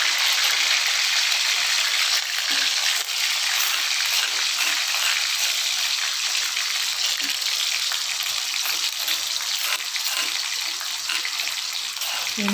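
A continuous hissing sizzle of shallot, garlic and candlenut spice paste frying in a wok over low heat, steady and close, with faint scraping of stirring and no talking.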